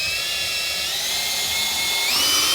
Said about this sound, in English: So I'm going to take my step drill bit, you can use any drill bit, and we're going to go right in the middle and just put a pilot hole.